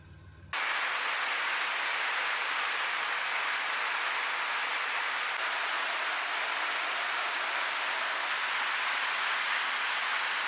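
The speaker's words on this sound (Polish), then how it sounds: "tam jak spałem sobie w budce, zaczął padać deszcz" Steady rain on a campsite shelter in Albania, heard from beneath a makeshift roof: a dense, even hiss of drops that starts abruptly and keeps going, loud and close, with no voices.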